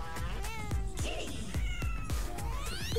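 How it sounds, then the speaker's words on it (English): Meows from a big cat in Fortnite sound in several short, close calls, mixed with light percussive game music beats. "Oh, and of course you've got the big old cat here."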